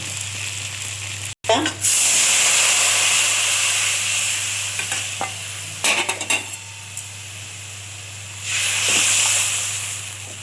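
Pot of Bengali pabda fish curry with eggplant bubbling on the stove: a steady hiss with brief louder sizzling bursts and a swelling rush of steam toward the end.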